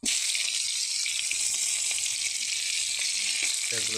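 Onions and chillies frying in a pan of hot oil, a loud, constant sizzling hiss from start to finish, with a brief clatter near the end and no voices.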